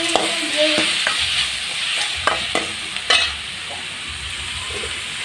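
Tomatoes being sautéed in a pan with salt and turmeric: a spoon scrapes and stirs in repeated strokes over a steady, close sizzle of frying.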